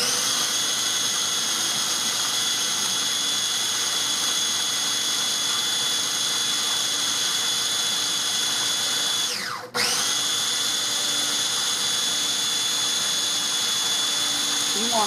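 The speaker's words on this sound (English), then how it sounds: "You want all that chipotle pepper, you know, as fine as you can get it in here. That's why I'm grinding this up for so long" A blender grinds chipotle pepper for spicy mayonnaise, a loud, steady high whine running continuously with one brief dip in pitch partway through before the motor picks back up.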